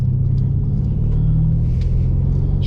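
A 720bhp 2020 Audi RS6 engine roars in a steady, loud, low rumble as the car accelerates hard along a clear road, heard from inside the car with no pause.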